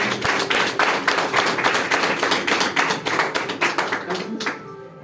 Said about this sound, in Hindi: एक बार इनके लिए जोरदार तालियां हो